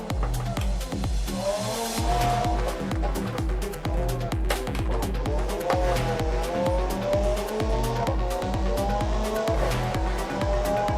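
A car drives with its tires skidding and squealing while braking, engine revving under repeated sharp impacts and rhythmic thumps, loud and close throughout.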